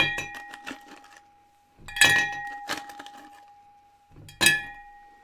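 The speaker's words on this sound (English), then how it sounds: "Fill up the cocktail glass with some ice here." Ice cubes dropping into a cocktail glass for an Old Fashioned, three separate bursts of bright glassy clinks and cracks, each fading out against a steady background tone.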